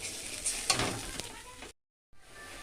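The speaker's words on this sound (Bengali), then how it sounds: "এবার জল ফুটে উঠেছে" Water comes to a boil in a pan for bhola fish curry, giving a steady bubbling hiss close by with a few sharper clinks before a brief gap of silence.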